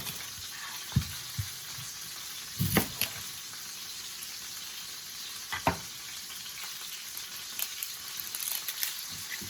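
Roast beef searing in a hot pan, a quiet steady sizzle broken by a few sharp pops and clatters, probably utensil knocks, with no talking.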